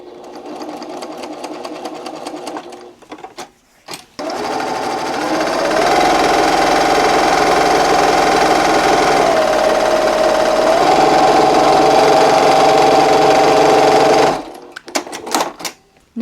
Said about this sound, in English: you don't want to start sewing right on the edge of your fabric over here